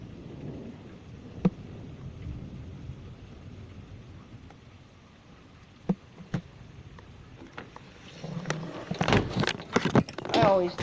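Thunder and rain during a severe thunderstorm in Olympia, Washington: a low, steady wash of rain with a few sharp cracks and distant rumbles, building into louder, denser crashes near the end.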